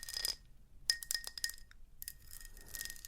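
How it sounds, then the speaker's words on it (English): A drinking glass of water set out for watercolour painting gives a few bright clinks and taps as it is handled, in short clusters spread across the moment, close and fairly quiet with no talking. "I have a glass of water"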